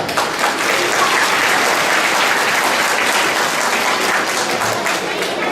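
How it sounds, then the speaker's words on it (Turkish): Sustained applause fills a gathering hall at a foundation event, an even wash of many hands clapping with a few voices mixed in, holding steady throughout. "Alkışlarınızla."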